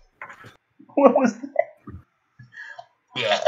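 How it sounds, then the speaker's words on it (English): Short, abrupt hiccup-like bursts break up gaming chatter during a Minecraft session, with voices talking around them and a louder burst at the end. "I think I have the hiccups now."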